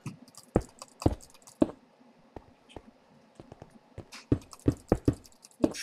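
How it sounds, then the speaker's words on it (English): Someone typing on a computer keyboard while chatting during a Minecraft bridge game: irregular bursts of close, crisp key clicks with short pauses between them, and no talking. "I'm typing something in chat again."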